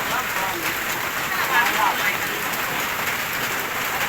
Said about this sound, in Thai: อีสานบ้านเฮาก็ฝนตกนิดน้อยพี่น้อง